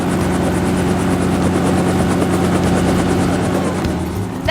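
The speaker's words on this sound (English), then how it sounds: "That's right, it's a helicopter. Noisy, isn't it?" A helicopter with a spinning metal rotor on top and landing skids thunders loudly and steadily, its low rotor beat pulsing close by throughout with no talk over it.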